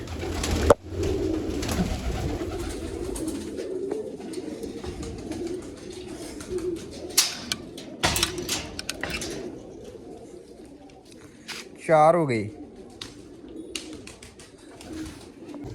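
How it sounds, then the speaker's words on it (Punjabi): Several pigeons coo steadily in a loft after feeding, a continuous soft murmur of overlapping calls with a few sharp knocks and a brief rising squeak near the end; someone says a few words partway through. "ਇੱਕ ਦੋ ਯਾਰ ਕਬੂਤਰ ਖਾਉਂ ਖਾਉਂ ਹੀ ਕਰਦੇ ਸੀਗੇ"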